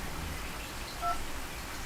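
A single short telephone dialing tone beeps once, faint and brief, over a steady low hum of room noise.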